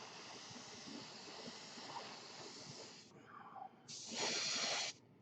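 An Iwata or Grex airbrush sprays in a steady, faint airy hiss that stops briefly, then returns as a brighter, stronger burst of spray before cutting off, close and without talk.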